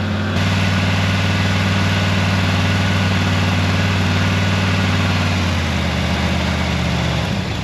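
A Chevy 327ci engine with a newly broken-in cam idles loudly and close up, its low, steady rumble unbroken throughout, with a slight drop in pitch and tone near the end.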